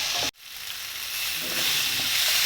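Coriander leaves, curry leaves, Kashmiri red chili and tamarind sautéing in a pan for chutney, giving a steady close sizzle after a brief dropout near the start, with no talk.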